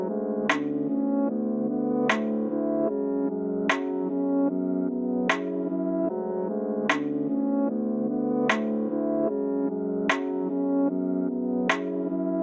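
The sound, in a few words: UK drill beat, melody with rim shot drums together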